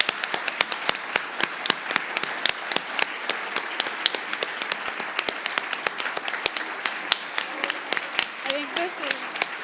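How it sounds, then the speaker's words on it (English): An audience at a community service center event claps, distinct individual claps standing out sharply within a thinner round of applause, with some talk underneath. "can we give her a big round of applause?"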